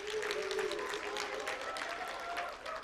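Applause from an event audience of TVET college representatives, a steady dense patter of many hands held at even loudness for about three seconds, with a faint voice underneath.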